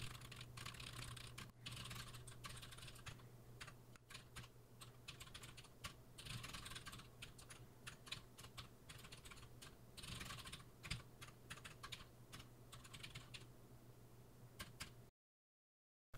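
Someone types on a computer keyboard while coding in VS Code, producing a quiet, irregular stream of key clicks with short pauses over a low steady hum, and no voices.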